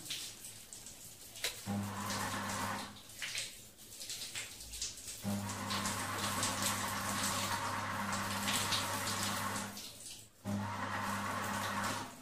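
A household shower head with a clogged water line runs in a steady, hissing spray that cuts off briefly several times, with a low mechanical hum underneath, close and moderately quiet.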